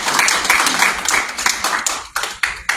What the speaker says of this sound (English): Will you please take a moment and give yourselves a round of applause?